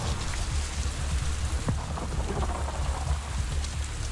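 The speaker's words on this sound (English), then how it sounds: "I bet that with ultra graphics the rain it looks so beautiful because sounds so beautiful." Rain pours steadily in the video game Avatar Frontiers of Pandora, a dense even hiss of drops on surfaces with faint low rumbles like distant thunder, no voices.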